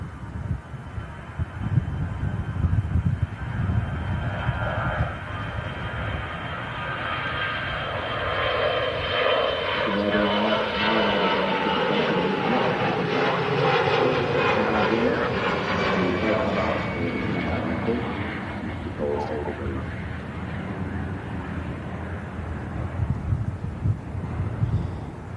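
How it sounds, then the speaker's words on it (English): An EasyJet airliner bound for Belfast takes off down a runway at Manchester Airport, its jet engines building to a loud sustained roar that swells and then slowly fades, with some wind buffeting the microphone. "There's an EasyJet rockets down the runway just out to Belfast."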